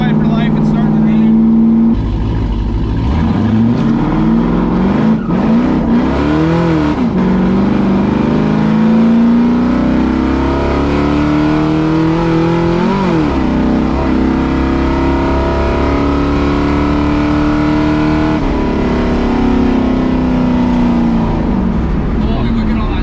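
A Ford Fox Body Mustang engine revs up and down repeatedly while driving, loud and close, with rising and falling pitch sweeps; voices talk over it.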